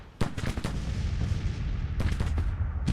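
Civil War artillery and musket fire in the strategy game Grand Tactician during the 1863 Eastern spring offensive, sharp repeated booms and cracks in irregular clusters over a continuous rumbling battle din.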